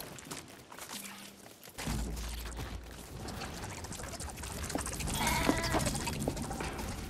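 Sheep bleating in the video game Lego Fortnite, a few clear bleats over steady game ambience and background music, fairly close and moderately loud.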